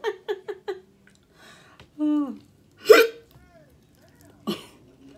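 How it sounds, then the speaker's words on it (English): Sharp, abrupt hiccups from someone eating onion rings and chicken, close and distinct, separated by short pauses with brief voiced sounds between them. "It's good. Minus the hiccups."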